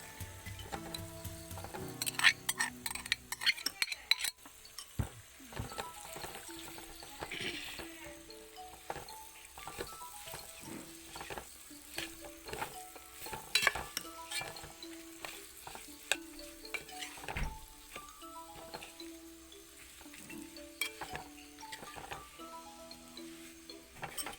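Already-cooked cassava gets mixed in a pan over a low flame, with scattered soft clinks and scraping of a spoon on metal over a faint sizzle, quiet and close, no talking.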